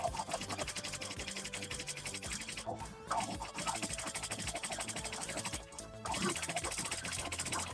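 A sewing machine fitted with a rolled hemmer foot stitches steadily over fabric seams, a fast rhythmic mechanical whirr, close and quiet, with two brief pauses as the machine stops and restarts.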